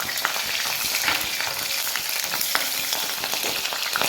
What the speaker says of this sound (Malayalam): ഇനി ഇതിലേക്ക് ഒരു 4 പച്ചമുളക് 2ആയി കട്ട് ചെയ്തിടാം.